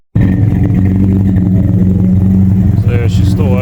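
A car engine idles loud and close, running rich, with a steady, slightly uneven rumble, and a voice briefly speaks near the end.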